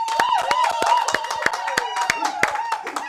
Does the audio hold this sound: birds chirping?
no